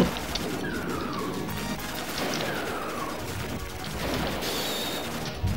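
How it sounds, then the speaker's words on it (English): Explosions rumble and crash in the Aero Fighters arcade shoot-'em-up, a steady, dense barrage of bursts with brief electronic chirps over the top. No one speaks. "Explosions!"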